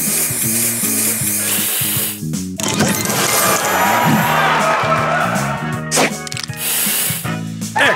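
A spray booster effect fires in the mobile puzzle game Match Masters, a loud burst of hissing, crashing effects layered over steady, bouncy game music, with a short pause near the middle before the sounds resume.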